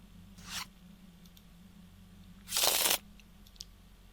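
Card shuffling in the Sentinels of the Multiverse video game: a short riffle, then a louder, longer burst of shuffling about two seconds later, each standing alone with no talk.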